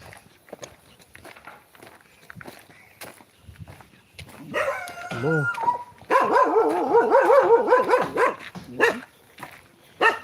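An unleashed dog near a hillside temple barks and yelps nearby in a run of excited bursts, mixed with whimpering tones, over shuffling footsteps.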